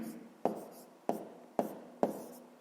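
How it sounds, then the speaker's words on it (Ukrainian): Pen or chalk strokes written down as a maths answer, four distinct taps or scratches spaced roughly half a second apart, close and clear against a quiet room with no talking. "Пишемо відповідь."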